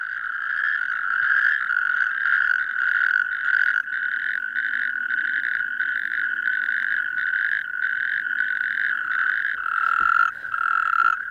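A colony of male natterjack toads calls through the night in a loud, unbroken chorus of rapid, pulsing trills that overlap without pause. No voices are heard.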